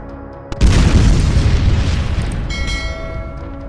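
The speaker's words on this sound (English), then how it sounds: "the video appears to show Ukrainian kamikaze drones heading for a line of armored vehicles, with airborne drones capturing footage of explosions along the convoy" A sudden heavy blast from a kamikaze drone striking an armored convoy erupts into a loud, rolling boom that slowly fades over a few seconds, with no voices.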